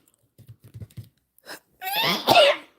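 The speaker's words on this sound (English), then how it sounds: "I don't know why I'm sneezing right now." A few soft sniffs and breaths build up, then a loud wet sneeze bursts out close by at the end.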